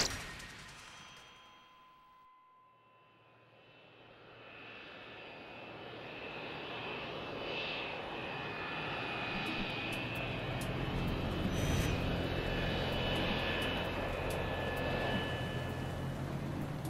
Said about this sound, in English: Passengers on board Crossair Flight 498 are waiting to take off.